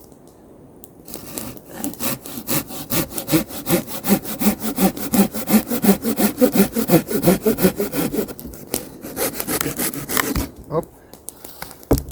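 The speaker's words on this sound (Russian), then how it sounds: "А я решил распилить маленькой пилой вот этот вот дуб" A small hand saw cuts through an oak log in quick, rhythmic back-and-forth strokes that sound close and grow steadily louder before stopping. A voice utters a brief exclamation near the end.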